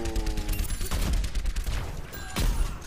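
Rapid video-game gunfire rattles in bursts at Tracer in Overwatch, a dense run of close, loud shots with a heavier blast near the end.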